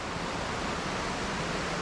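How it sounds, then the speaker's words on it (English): Swollen mountain creek rushing hard during a flash flood near an off-grid cabin, a dense, constant loud roar of fast water without any pauses or voices. "The little feeder creek right there is even flowing hard."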